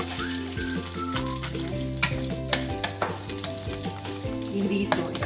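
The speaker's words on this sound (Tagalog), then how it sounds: "Maglagay din ng cooking butter." Cooking butter sizzles and fries in a pan for beef calderita, a steady close crackle with stirring, alone without talk.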